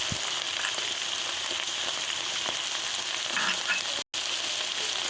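Chicken and carrots fry for fried rice in a pan, giving a steady close sizzle with light crackles and stirring clinks, cut by a very brief silent gap near the end.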